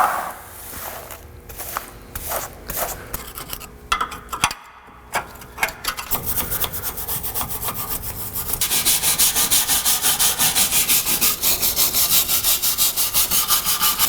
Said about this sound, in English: So I'm going to sweep it up now before I go for the rust.